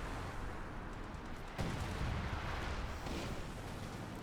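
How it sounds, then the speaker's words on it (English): Artillery fire in Company of Heroes 2 forms a continuous low rumble of distant booms, with a sharper impact partway through, all under a dense battle din. "Lots of artillery fire there,"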